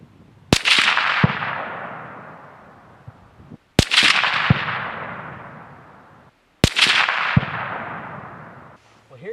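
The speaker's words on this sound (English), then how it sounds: "Now we've got some Nosler 160 grain AccuBonds in a factory load that we're going to shoot." A Browning X-Bolt long-range hunting rifle fires three Nosler 160 grain AccuBond factory rounds outdoors, each a sharp, loud crack with a long rolling echo, spaced about three seconds apart.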